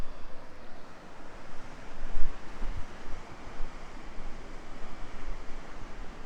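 Khedi Waterfall in Uttarakhand sends falling water down as a steady, broad rushing roar that holds at an even loudness throughout, with no voices, like wind or surf.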